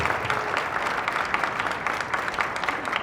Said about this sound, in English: Let's give a round of applause for Nova